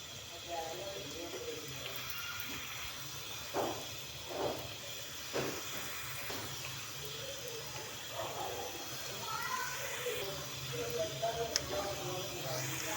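Samosas slipped one by one into hot oil for deep-frying until golden brown: a steady hiss of sizzling with a few splashy bursts as pieces drop in, fairly close and continuous throughout.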